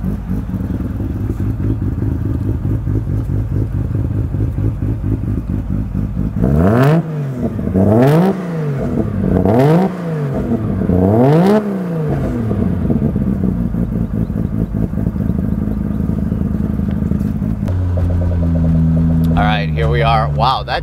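A 1995 GReddy-built Nissan R33 GT-R with an aggressive cam idles loud and close in a choppy, lumpy rhythm, then gives several sharp revs that rise and fall before it settles back to idle, with people talking over it.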